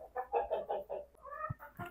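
Nearby chickens in a poultry coop give a quick run of rhythmic clucks, a few short separate calls at a moderate, fairly soft level.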